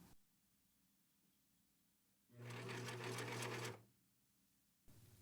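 A basic model Singer sewing machine stitches a seam slowly on a handwoven crossbody bag: one steady mechanical whir of about a second and a half, close and clear, with quiet pauses before and after.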